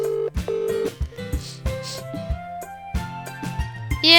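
A phone is dialed with a quick series of distinct electronic keypad tones, each short beep stepping to a different pitch in an uneven rhythm, ending in a brief burst of noise.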